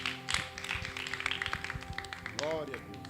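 A church congregation claps to welcome the pastor: rhythmic, close clapping mixed with voices and sustained tones, ending with a rising vocal sweep.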